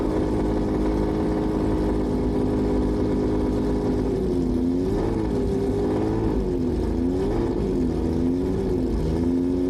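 A race car powered by a 1992 Mazda four-cylinder engine idles and revs on an open dry lakebed, a steady mid-pitched drone with rising and falling pitch swells midway.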